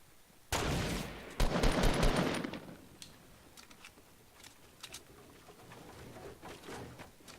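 Rapid gunfire bursts in the Fortnite video game crack out near the start, followed by scattered fainter shots and distant game sounds.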